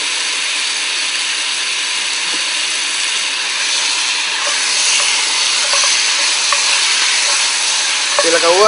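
Meat searing on a braai, a loud, continuous hiss and sizzle filling the whole stretch, with faint crackles and a brief voice near the end.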